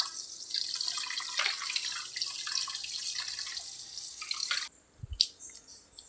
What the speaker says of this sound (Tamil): நல்லா வெத்தலையாட்டு கழுவி எடுத்துக்கணும்.